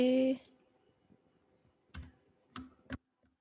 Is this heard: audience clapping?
no